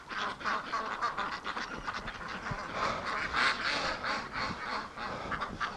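Ducks quacking inside a barn, a busy overlapping chorus of nasal calls that carries on steadily at close range, with no talking.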